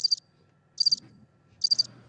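A cricket chirps three times at a steady interval, each chirp a short, bright trill heard alone against near silence.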